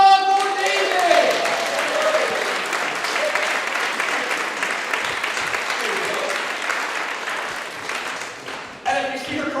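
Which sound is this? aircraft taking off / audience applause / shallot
audience applause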